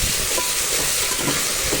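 Onions frying in a pan for a fenugreek leaf and tomato curry, a steady loud sizzle and hiss that runs continuously without pause.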